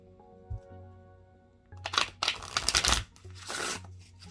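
Forest of Enchantment tarot cards shuffled by hand close up, with short bursts of riffling and card slaps after a quiet start, over a low steady hum.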